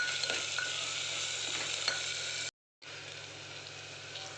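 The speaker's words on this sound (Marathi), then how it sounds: "सगळं मिक्स करून घेऊया व्यवस्थित हलवून" Mixed vegetable khichdi with country gram is stirred in a pan, a steady hissing sizzle with a few soft scraping strokes, briefly cut to silence before the same sizzle resumes.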